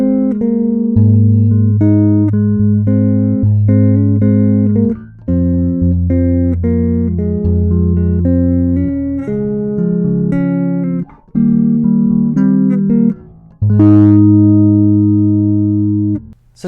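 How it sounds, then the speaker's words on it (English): A Schecter Hellraiser Extreme bass with both pickups open and the EQ flat plays solo chord arrangements, clean sustained chords and low notes ringing out in phrases with brief pauses, close and alone. "let's try some solo bass arrangement type stuff. I have both pickups wide open and the EQ flat"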